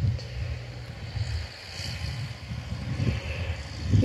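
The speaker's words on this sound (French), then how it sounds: "un tracteur qui va passer." A tractor passes in the countryside, heard as a low, rumbling engine drone that swells and fades slightly, mixed with gusty wind noise on the microphone.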